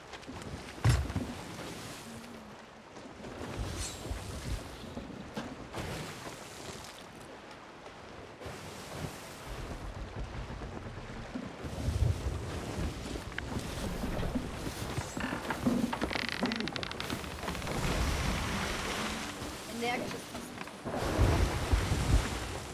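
A sailing ship on the open ocean in the video game Sea of Thieves, with continuous rushing water, creaking hull and gusty wind noise, surging louder in places, no talking.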